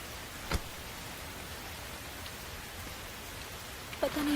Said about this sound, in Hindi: कितनी बारिश हो रही है।